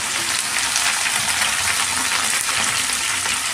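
Okra pieces fry in hot oil in a pan, giving a steady, dense sizzle that stays loud and close without pause.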